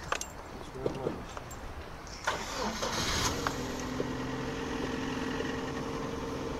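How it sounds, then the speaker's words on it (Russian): A Lada Priora car engine starts and settles into a steady, fairly smooth idle heard close by, with clicks and small knocks early on and people talking near the car. "двигатель вроде работает достаточно ровненько"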